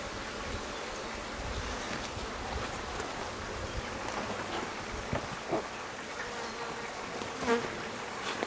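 Honeybees hum densely around an opened hive during an inspection, a continuous close buzzing with occasional louder passes as individual bees fly near.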